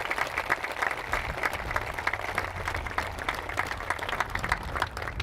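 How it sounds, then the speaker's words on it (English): Steady applause from a sizable crowd for sponsors at an OPSU event, dense clapping sustained evenly throughout with a warm murmur underneath, moderately loud and close. "would you give them a round of applause, please?"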